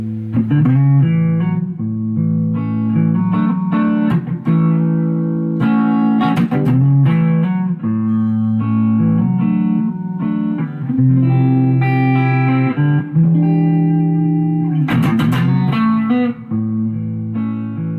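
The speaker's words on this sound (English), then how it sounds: "Nice jazz guitar too, for that beautiful sound on the bottom." A Yamaha SA1200s Super Axe electric jazz guitar plays clean, warm chords and melodic lines continuously, with plucked attacks and sustained low notes, close and full.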